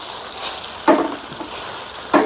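Okra frying in a pan gives a soft, steady sizzle. A few sharp spatters and clinks from stirring break through it, with no voices.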